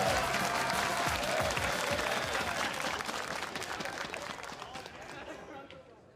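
Dense applause and cheering from a large crowd at a League of Legends LCS esports match, loud at first and slowly fading, with a commentator's voice mixed in.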